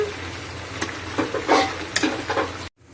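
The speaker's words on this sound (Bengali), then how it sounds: "আলুগুলো আমি এরকম করে ঘেঁটে দেবো" Potatoes being mashed and stirred into a simmering curry with greens, with a continuous wet frying sizzle and several scraping, squishing stirring strokes close by, cut off abruptly near the end.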